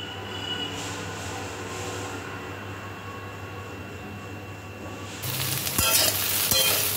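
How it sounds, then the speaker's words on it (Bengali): A kitchen mixer grinder blends vegetables into a paste, its motor a steady, loud, droning whir that runs without a break and grows harsher and noisier near the end. "তো এখন মিক্সিতে আমি পেস্ট বানিয়ে নিচ্ছি।"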